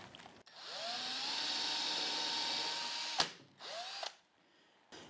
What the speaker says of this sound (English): So first thing we'll do is go ahead and drill in our first one.